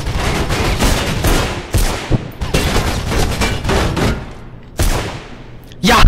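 Rapid bursts of automatic gunfire in the video game Mirror's Edge, loud and close, in several separate volleys with short gaps, a voice talking over parts of it.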